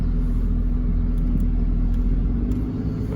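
Deep steady rumble of a 2021 Lotus Evora GT engine in race mode, heard from inside the car on the road, with a loud low drone that holds constant and has no talk over it.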